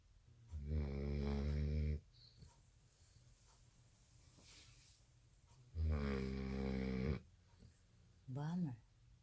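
An American Bully puppy snoring loudly as it sleeps, with two long, rough, droning snores separated by quiet breathing and a shorter snore near the end, close to the listener.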